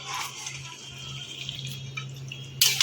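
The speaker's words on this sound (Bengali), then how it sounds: "এবার চিকেনটার মধ্যে ঢেলে দেবো আস্তে আস্তে করে ঢালবো" A cooked spice mixture is poured slowly over a large batch of chicken in a big kadai for chicken maharani. A faint, wet trickling runs throughout and ends in a sharper splash.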